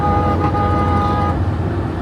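A bus horn on a road trip toward Phnom Penh, Cambodia, blares in a long steady honk over loud, continuous engine and road rumble inside the moving vehicle.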